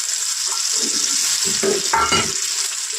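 Potatoes going into hot oil seasoned with panch phoron, giving a steady, loud, close sizzle with a brief stir and clatter partway through, no voices.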